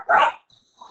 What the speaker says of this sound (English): My dog just flipped out because somebody came by the door.